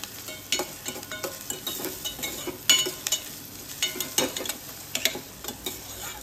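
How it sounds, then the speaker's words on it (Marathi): Onions fry and soften in a pan for a South Indian-style green curry, a close, continuous sizzle broken by regular clicks and scrapes of stirring, with no voices. "हे बघा आता कांदा नरम होत आलाय बघा आपला."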